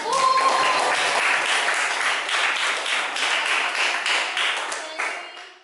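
A classroom of students claps together, a dense, fairly loud patter of many hands that runs steadily and then tapers off toward the end.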